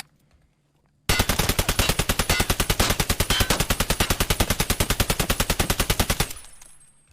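An RD704 rifle fires one long, rapid full-auto burst in the Escape from Tarkov game, about five seconds of evenly spaced, loud, punchy shots that cut off sharply and leave a fading tail.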